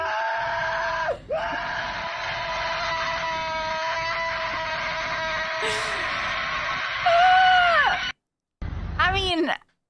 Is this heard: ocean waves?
no